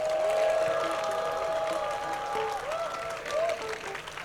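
A crowd at a Christmas joint worship service applauds the Sejong Hotel workers, a dense, steady wash of clapping that holds for several seconds with a faint sustained tone underneath.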